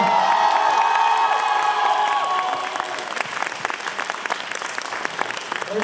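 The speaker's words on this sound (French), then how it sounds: "S'il vous plaît, encore un peu d'applaudissements, s'il vous plaît" An audience applauds after a dance show, with dense clapping and cheering and some high shouts and whoops at the start, then continuing as lighter, more scattered claps.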